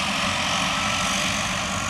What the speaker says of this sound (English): This is the flight that just dropped me off.